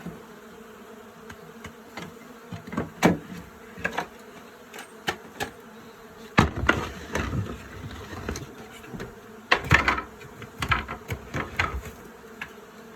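Honeybees buzzing around an open beehive while frames are handled, with scattered close buzzing passes and clicks over a soft steady hum.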